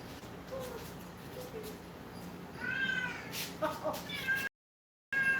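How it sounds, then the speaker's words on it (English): A talkative house cat meowing loudly indoors, with several drawn-out close meows in the second half after quieter background sounds, briefly cut by a moment of silence before one more. "he's the most talkative cat I've ever had"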